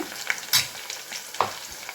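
Onion sizzles and crackles in a pan as coriander, mint and ginger are added, with close stirring scrapes and a few sharper taps over a steady frying hiss.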